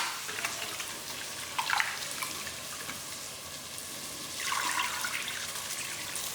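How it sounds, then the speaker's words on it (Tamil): Rice is washed by hand in water, with a soft steady trickle and two louder bursts of splashing and swishing close by. "அதுக்குள்ளே அரிசியை கழுவிட்டு வந்துடுவோம்."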